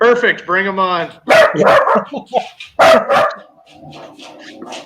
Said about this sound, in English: I hear it barking.